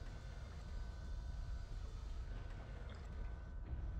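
A train rumbles steadily in the MechWarrior 3 video game, a faint continuous low drone with a mechanical hum that runs unbroken throughout, with no voices over it.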